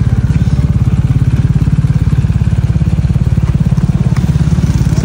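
A motorcycle engine runs loud and steady, its rapid low pulsing holding a constant chugging rhythm throughout, close by.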